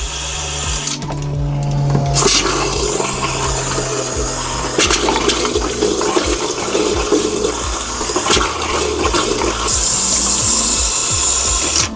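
Water rushes steadily from an RV faucet, a constant hissing flow with occasional clunks and gurgles, close by.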